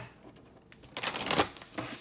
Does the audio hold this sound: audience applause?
no